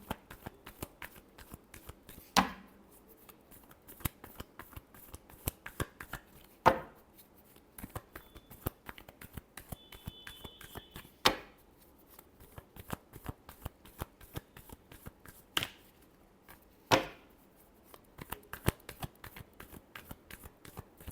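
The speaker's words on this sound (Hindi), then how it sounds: "last shuffle" Tarot cards shuffled by hand, sharp riffling bursts recurring every few seconds, with quieter card taps and slides between them, close and fairly soft, with no voice.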